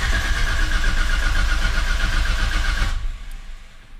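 A Nissan Skyline R33 with a big turbo engine build cranks and runs loudly for about three seconds, then cuts off abruptly and fades into quiet.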